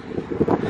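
Wind gusting outdoors in a beautiful open spot, a low steady rush with soft buffeting against the microphone, swelling slightly toward the end of the brief moment, with no voices.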